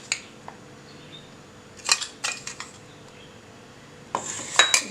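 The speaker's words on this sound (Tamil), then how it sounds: "இத நல்லா வந்து கலக்கி விட்டுருங்க." A spoon stirs a homemade Oreo biscuit chocolate mixture in a bowl, giving quiet scrapes and short bursts of metallic clinks against the dish, with near-silent pauses between the rounds of stirring.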